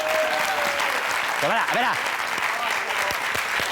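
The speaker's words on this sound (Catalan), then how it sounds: "vostès no aplaudeixin tant" A studio audience at a Catalan late-night TV show keeps up steady, loud applause while someone speaks briefly over it.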